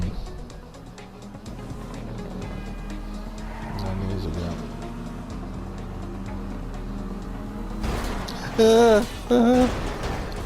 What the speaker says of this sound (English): That was hell of a crash